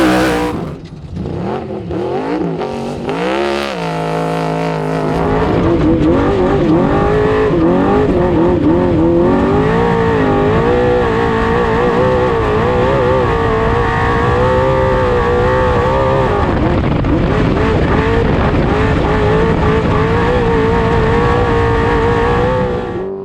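An off-road race vehicle's engine roars loud and close while racing through sand, revving and surging at first, then holding a sustained high-pitched howl at full throttle throughout, with no voices.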